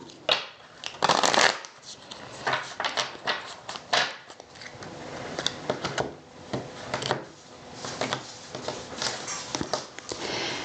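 Tarot cards are shuffled repeatedly up close, with quick riffling bursts and soft sliding and tapping sounds between them, no voices.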